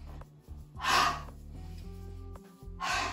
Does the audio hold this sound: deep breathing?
yes